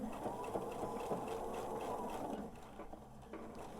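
Sewing machine stitching pinned quilt-top pieces, running in a steady, close whir for most of the stretch, then easing into shorter, slower bursts near the end.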